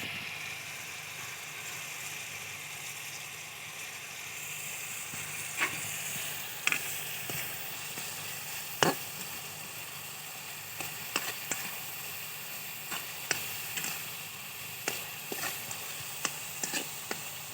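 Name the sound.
frying red chili in a pan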